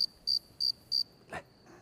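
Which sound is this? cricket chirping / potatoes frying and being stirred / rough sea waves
cricket chirping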